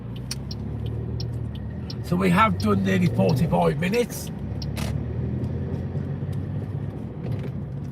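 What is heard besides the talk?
car driving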